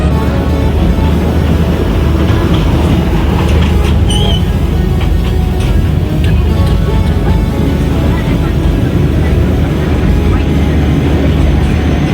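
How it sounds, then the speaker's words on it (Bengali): Darjeeling Himalayan Railway toy train rounds a curve on the Darjeeling to Ghum joyride, a loud, unbroken rumble of wheels and carriage noise filling the whole stretch, heard up close from on board. "দেখুন ট্রেনটা কার্ভ নিচ্ছে, পুরোপুরি কার্ভ নিচ্ছে।"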